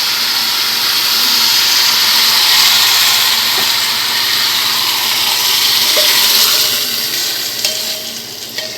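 Spices tempering in hot oil for a Sri Rama Navami home puja meal give off a loud, steady, close-up sizzling hiss that holds throughout, with faint clinks near the end and no talking.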